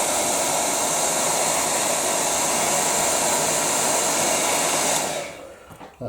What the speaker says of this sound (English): I'm gonna put my hair dryer on it.